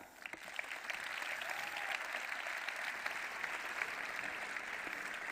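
Steady applause from a sizable crowd at a murga competition, a dense wash of clapping that continues evenly throughout.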